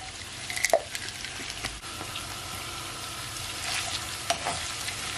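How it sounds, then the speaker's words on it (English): Fresh thyme, garlic cloves and pimento seeds sauté in hot oil in a pan, giving a steady soft sizzle with occasional crackles and pops, close and fairly quiet, with no talking. "Just gonna allow it to saute, guys, for at least 1 minute"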